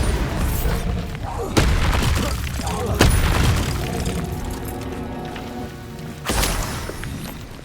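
Bombarda spell explosions in the video game Hogwarts Legacy burst as several loud booming impacts with crumbling debris, spaced a couple of seconds apart, under a continuous game soundtrack.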